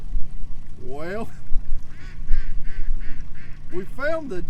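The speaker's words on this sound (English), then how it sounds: "A bunch of darn residential ducks." Resident ducks quack in short bursts nearby at a boat ramp, a few loud calls over a low engine-like rumble, with a brief gap between bursts.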